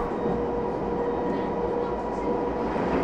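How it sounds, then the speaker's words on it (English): A train rumbling along with a steady, even roar and faint rhythmic rail noise, heard from inside the carriage with no one speaking. "So I'm getting the train back."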